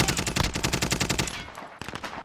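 Rapid automatic gunfire in Call of Duty: Warzone, a fast run of loud, evenly spaced shots for over a second, then a pause and a few more bursts.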